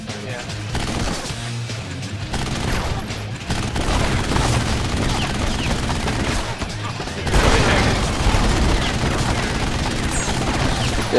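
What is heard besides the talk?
gunfire in a video game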